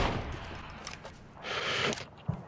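Gunshots in the video game PUBG, faint scattered shots and a brief rattle of fire at a distance, with a sharper thump near the end.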